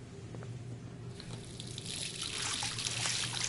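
Shower water runs in Life is Strange as a steady hiss of spray that swells and grows brighter halfway through, then keeps pouring alone beneath a low background hum.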